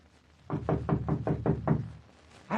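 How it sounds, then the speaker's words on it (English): Seven evenly spaced knocks land on a door in a radio drama set outside a quiet toy workshop, fairly loud and close against a hushed background. "Knock on the door, please, Tim."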